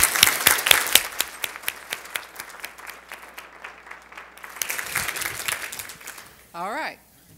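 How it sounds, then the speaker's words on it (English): An audience at a Friday forum claps for a speaker, loud and busy at first, thinning out in the middle, then swelling again before a short burst of talk at the end. "Give him applause."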